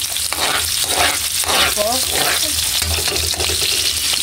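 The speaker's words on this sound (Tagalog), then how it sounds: "At haluin na po natin mga idol." Food stirred as it fries in a pan for eskabeche with dried fish: a loud, constant sizzling hiss with scraping stirs. Someone speaks briefly over it.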